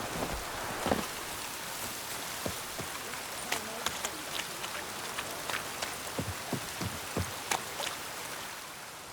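Rain pours steadily in The Witcher 3 video game, a dense continuous hiss with scattered louder drops and patters, even and enveloping throughout with no voices.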